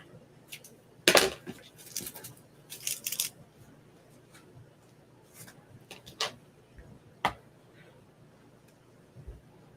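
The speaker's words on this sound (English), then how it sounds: "I just cut these little skulls off. Need my good scissors." Sharp scissors snip small skull decorations while a homecoming mum is assembled, giving a few quick, close cutting bursts spaced through quiet room noise.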